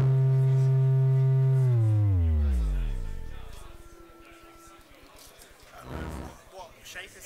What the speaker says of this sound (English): Now it's a sine wave